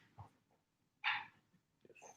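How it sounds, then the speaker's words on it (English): A pet dog gives a single short, loud bark in an indoor room, with faint whimpers and breathing before it and soft noises after. "Did you just bark?"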